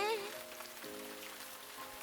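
Rain falls steadily in a visual novel game scene, a soft continuous patter with a brief chime-like tone at the start and a faint voice partway through.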